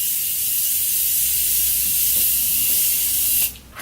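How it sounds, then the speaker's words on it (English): A Morphe setting spray mister sprays onto a face in one continuous, close, bright hiss lasting over three seconds before cutting off abruptly. "So spray some of that."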